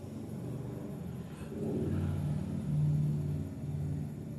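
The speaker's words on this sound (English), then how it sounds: "People love driving in the middle of the night" A car passes outside at night, its low engine rumble swelling gradually from faint to fuller as it approaches and peaks, then easing slightly, steady and unaccompanied by speech.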